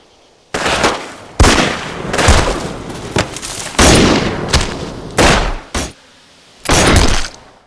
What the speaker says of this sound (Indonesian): Castello dengan wajah penuh dendam menembakkan pelurunya ke segala arah, berharap setiap tembakan menemukan sasaran.